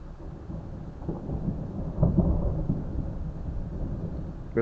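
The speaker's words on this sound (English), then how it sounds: "I love thunderstorms and lightning and all that stuff." Thunder from a thunderstorm rolls in a low, rumbling wash with a louder swell midway, heard at a distance over a faint background of rain.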